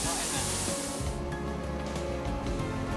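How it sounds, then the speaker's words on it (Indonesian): Semirang waterfall pouring into its pool, a loud, steady, broadband roar of rushing water that fills the scene without letup. "pengunjung bisa sekaligus berolahraga sambil merasakan pijatan air terjun ini"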